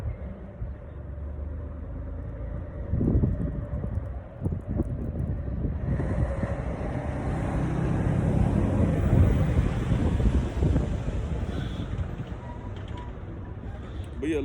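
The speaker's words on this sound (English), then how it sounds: "Let me let this damn truck go past." A truck passing outdoors, a broad rumbling roar that builds from about the midpoint and stays loud near the mic, mixed with wind buffeting; no clear speech over it.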